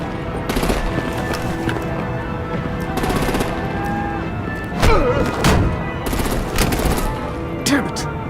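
Rapid machine-gun bursts and heavier booming shots crackle in Batman: The Enemy Within, loud and close, with short pauses between volleys and scattered voices underneath.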